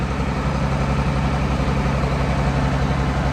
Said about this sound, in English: I'm just waiting for my tractor to un-airlock so I can have some steering.